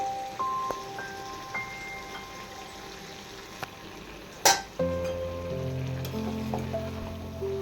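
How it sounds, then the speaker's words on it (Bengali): Mola fish curry with onion stalks fries gently in a pan as it is stirred, a low sizzle with occasional clinks and one sharp knock against the pan, and soft tonal sounds running in the background. "এখানে একবার নেড়ে দিচ্ছি আমি সুন্দরভাবে।"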